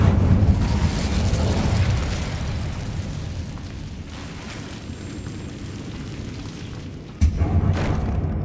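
Casting the Incendio fire spell in Hogwarts Legacy produces a loud, rumbling fiery burst that sustains as a dense roar, then swells again with a fresh thump near the end.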